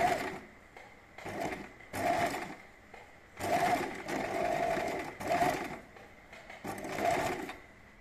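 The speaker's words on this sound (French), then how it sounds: "Je vais coudre à 5 mm ici au bord." A sewing machine stitches the edge of linen trousers in short repeated runs of fast, rhythmic clatter, fairly quiet and close, pausing briefly between bursts.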